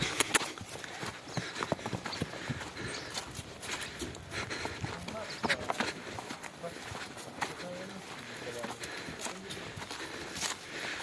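Horse hooves clip-clop on the ground as the horse is led at a walk outdoors, with irregular knocks and shuffling steps under people talking and some bird calls.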